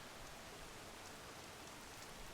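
Steady rain falls in the video game Horizon Forbidden West, an even, hissing wash of droplets with no voices and no breaks.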